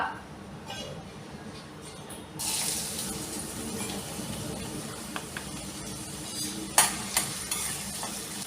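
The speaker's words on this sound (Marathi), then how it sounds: "तेल गरम झालं की मग त्याच्यामध्ये आपण घालणार आहोत कांदा" Chopped onion drops into hot oil for a Malvani clam curry and sizzles steadily. The frying hiss rises suddenly partway through and continues at a moderate level, with a few clinks of stirring.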